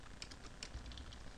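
A computer keyboard being typed on to enter a command, a run of light, quick key clicks with a few sharper taps, close and fairly quiet, no talking.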